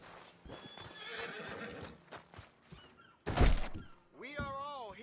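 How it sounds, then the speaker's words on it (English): Red Dead Redemption 2 horse with clip-clopping hooves, a loud thud, then a clear neigh, close up, with speech over the start. "Just look at that horse."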